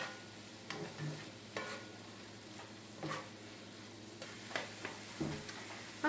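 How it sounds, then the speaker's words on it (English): A sausage mixture with herbs sizzles softly in a frying pan, a steady low hiss with occasional light scrapes and taps as it is stirred, no talking. "I'm just going to add this to my sausage mixture, and I'm just going to let this cook for a couple minutes"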